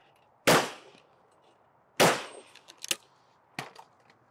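Two loud, sharp shotgun blasts at clay targets ring out about a second and a half apart, each trailing off in a short echo, followed by clattering mechanical clicks and a third, softer knock.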